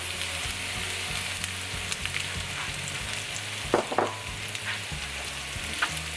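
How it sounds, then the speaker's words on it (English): Browned onions and beef frying in a pan, a constant loud sizzle with occasional stirring scrapes and clinks, close and alone without talk. "So now that the onions are turning nice and brown, we're gonna add the meat back into the pan."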